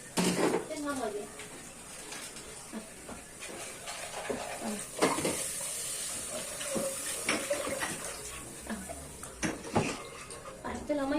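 Water poured from a pot or jug onto soaked rice and fried onion in a cooking pot, splashing and rattling among clinking kitchenware, with someone talking over it throughout.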